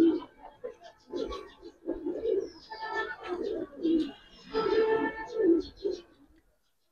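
Giribaz pigeons coo nearby in repeated soft, throaty bursts that overlap one another, with some faint background chatter.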